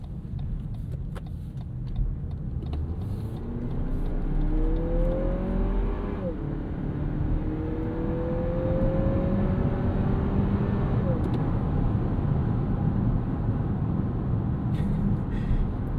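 A 2025 Lexus NX 350 turbo compact SUV accelerates through city streets, heard from inside as a steady low engine drone that rises in pitch through the gears amid road noise, with no talk.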